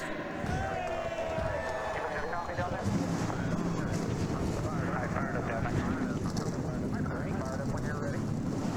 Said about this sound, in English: 42 engines crank up for the first ever Gatorade Cup Series race here at the Hattiesburg Speedway